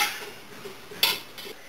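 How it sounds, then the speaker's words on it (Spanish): A utensil stirs a salad of cucumbers, tomatoes, jalapeño and onion in a bowl, giving soft scraping and a few light clinks close by, with one sharper tap in the middle. "Remueva."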